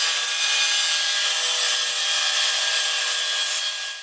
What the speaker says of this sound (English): So we're going to drill all the spot welds right now,